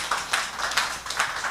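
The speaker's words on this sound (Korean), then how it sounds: "박수 한번 해주시죠." Audience at a church prayer gathering clapping, a steady quiet patter of many hands at a moderate distance, brief and continuous.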